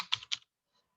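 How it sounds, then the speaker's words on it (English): Brief computer keyboard typing while a message is entered: three or four quick, close key clicks in under half a second, then silence. "So you can type in here"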